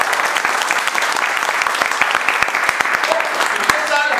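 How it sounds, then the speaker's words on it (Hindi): Students in a classroom at an introductory telecom class clap loudly and steadily together, a dense continuous round of applause with a voice speaking over it. "दुर्गे सर की जोरदार ताली दे दो भैया।"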